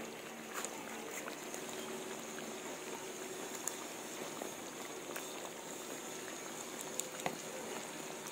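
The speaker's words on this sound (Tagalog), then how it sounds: "Kulong-kulo na." Kare kare sauce with vegetables and tofu bubbles in a pot, a steady, soft simmering hiss with scattered small pops and gurgles, heard close and alone without talk.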